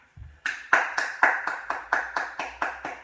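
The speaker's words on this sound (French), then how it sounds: "Applaudissez-vous." Group applause at the close of a Tabata cardio workout class: steady, evenly spaced claps, about four per second, close and fairly loud, alone without talk.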